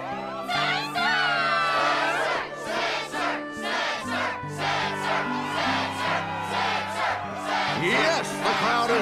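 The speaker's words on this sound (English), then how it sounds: "Yes, the crowd is fired up," Animated crowd in a Kingdom Hearts video game cheering and shouting at a struggle tournament arena, a loud, sustained roar of many voices with whoops and cries throughout.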